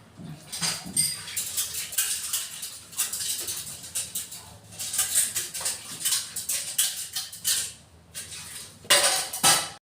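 Dishes and cooking utensils used for a meal being washed by hand, with irregular clinks, clatters and splashy scrubbing bursts close by, continuing through the whole stretch with brief pauses and no talk.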